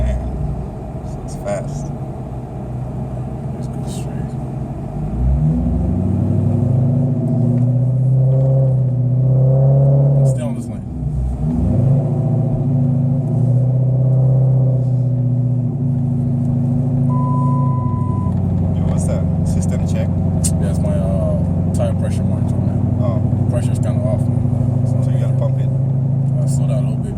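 A car drives fast on a road, its engine droning and rising in pitch as it accelerates, with steady road rumble under loud conversation among people inside the cabin.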